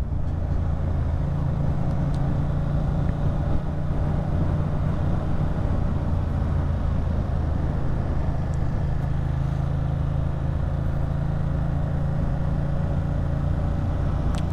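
A car drives along a street designated as a bicycle street, heard as a steady, fairly loud low engine and road rumble that runs unbroken throughout with no talking.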